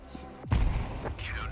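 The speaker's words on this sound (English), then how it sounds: "Throwing a grenade!" A grenade explodes in a multiplayer shooter video game as a single close, heavy thud with a short rumbling tail, amid faint game noise.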